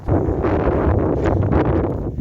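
Strong, gusty wind on an open stretch of the Pennine Way between Keld and Middleton-in-Teesdale buffets the microphone in loud, continuous roaring blasts, with no voices.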